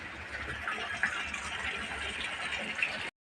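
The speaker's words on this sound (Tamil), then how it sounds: "தண்ணி ஊற்றுது, நல்ல தண்ணி வருது," Water runs steadily from a hose or tap onto potted plants in a rooftop garden, a continuous close hiss of flowing liquid lasting a few seconds with no talk.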